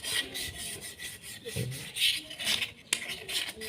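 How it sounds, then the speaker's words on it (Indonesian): Soft, rhythmic rasping of 1000-grit sandpaper rubbed back and forth inside a brake part, close and quiet, with a brief faint voice. "ini ada amplas 1000 ya, kayak gini untuk ngamplasin di dalamannya."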